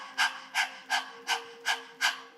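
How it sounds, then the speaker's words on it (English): A person performs breath-of-fire breathing in the style of a panting dog: six quick, forceful, evenly spaced exhales, close and clear against a quiet, faintly humming background. "dog panting breath is a great way to learn your breath of fire"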